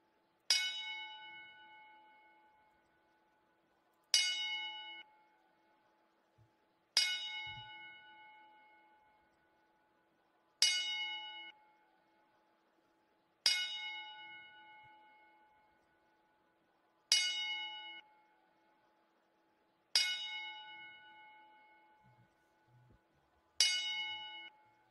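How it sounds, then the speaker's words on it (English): A ten-bell salute for deceased wrestlers: a single bell is struck slowly and evenly, about every three seconds. Each clear ring fades away before the next, with no talk over it. "we'll do a 10 bell salute to those men right now"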